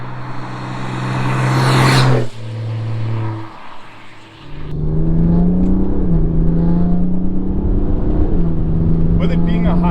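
A BMW 330d F30 stage 3 diesel hybrid on country back roads, its engine loud and close with a strong hum that surges, drops away, then settles into a steady, shifting drone.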